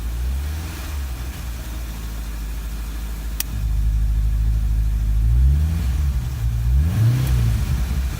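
A Corvette C6 Z06 engine with an NPP exhaust runs close by, a deep steady idle rumble that steps up louder partway through, followed by a couple of brief revs.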